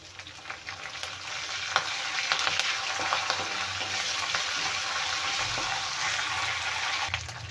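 Garlic cloves and curry leaves crackle and hiss steadily in hot oil, a close, continuous sizzle with occasional sharper pops and a faint stirring scrape.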